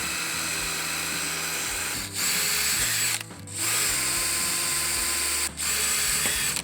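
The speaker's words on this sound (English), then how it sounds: "Once you're done with that, you can go ahead and drill out your hole saw hole." A power drill driving a hole saw through metal to mount a rotisserie bracket on a Smokeslinger grill, a loud steady whine cut by two short pauses and one longer pause, close up with no talk.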